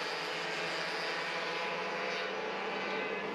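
High-pitched kart engines buzzing continuously during a karting race at Aqva Kart in Kandava, a steady droning whine from more than one engine at moderate distance, with no talk.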